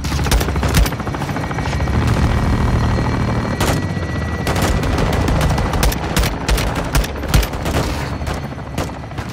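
Artillery strikes pounding a marked grid in the Call of Duty Modern Warfare 2 battlefield, a dense, continuous roar of impacts and rattling gunfire with sharp repeated blasts and a low rotor-like rumble underneath, loud and sustained throughout.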